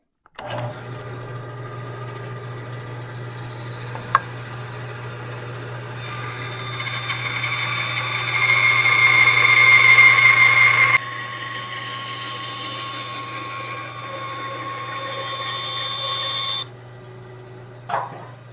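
A steady, high-pitched jigsaw whine cutting wood runs for about fifteen seconds with a low constant hum underneath, surging briefly mid-cut, then stopping abruptly.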